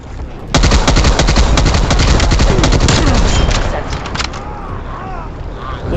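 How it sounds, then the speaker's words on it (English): Hip-fire gunshots in Call of Duty Black Ops Cold War multiplayer: a loud, rapid burst of automatic gunfire lasting several seconds, close and punchy, tapering off as faint voices and game sounds follow. "A little bit of hip fire there."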